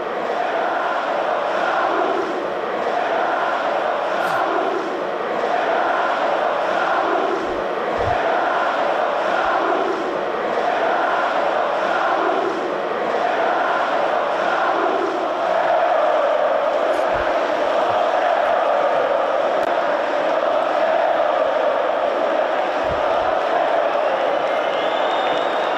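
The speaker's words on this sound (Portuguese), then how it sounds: "Quer ouvir o grito da torcida do Fluminense?" Fluminense football supporters roar a sustained chant from the stands, a dense wall of crowd voices rising and falling in rhythm with scattered shouts and whoops, loud and continuous throughout.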